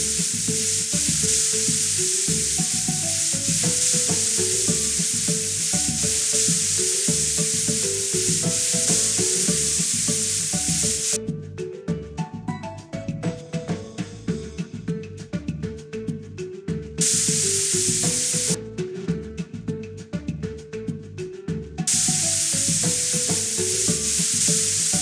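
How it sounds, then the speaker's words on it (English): Spray paint hisses steadily onto a car in the Vlad and Niki car service game, a continuous spraying sound with brief breaks, set over a looping upbeat game melody. "Move the spray over to the car to paint it."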